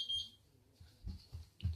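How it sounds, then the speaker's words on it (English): A kitchen smoke alarm goes off during cooking: one short, shrill electronic beep at the very start, followed by soft low thumps and handling noise. "The beeper went."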